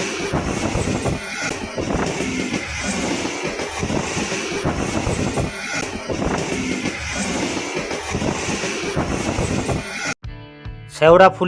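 A local train on the Sheoraphuli to Tarakeswar line rumbles with a continuous rattle and wheel noise for about ten seconds, then cuts to a quieter scene with voices.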